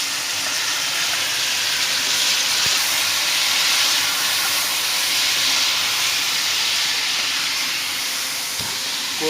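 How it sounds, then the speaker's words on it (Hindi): Chicken pieces frying in onion-flavoured oil for chicken korma give off a loud, steady hiss and sizzle that holds evenly throughout, with no voices over it. "इसको हम करेंगे अच्छी तरह फ्राई।"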